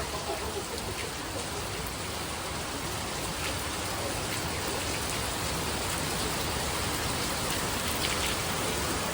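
Steady rain falls after a shower, a continuous even hiss of drops on surfaces, moderately soft and unbroken, with no voices or thunder.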